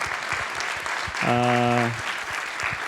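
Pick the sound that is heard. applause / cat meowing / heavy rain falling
applause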